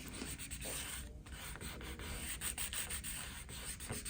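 A paper napkin is rubbed and smoothed by hand onto a homemade Christmas ornament, giving close, quiet, repeated brushing strokes in an uneven rhythm.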